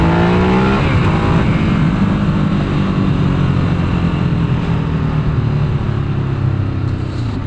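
A motorcycle accelerates hard in touring mode, its engine roaring loud and close with a rising pitch early on, then holding a sustained, steady drone to the end.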